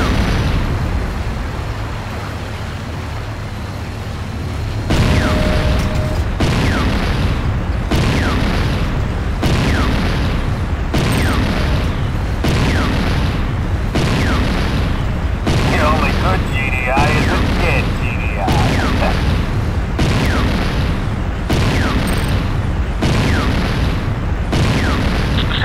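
Repeated heavy explosions and booms from a base under attack in the video game C&C Renegade, landing in a steady barrage over a constant rumble of battle noise after a quieter opening.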